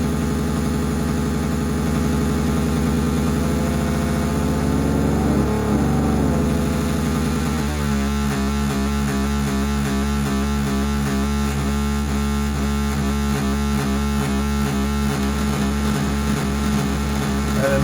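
A Seesar Gear Dead Air Generator 11 pedal drones with gain added, a thick, steady buzzing tone that turns rougher and pulsing partway through, loud and continuous with no talk.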